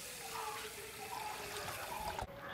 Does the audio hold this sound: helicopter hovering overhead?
no